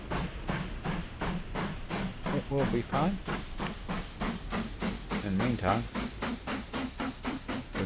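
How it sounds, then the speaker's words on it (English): A heritage steam train in the game Mashinky chuffs in a steady rhythm with a hissing pulse and clickety-clack, loud and close, while someone talks over it. "Almost looks like it's a heritage train."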